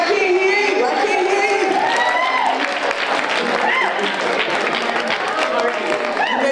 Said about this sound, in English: Let's give ourselves a great big round of applause.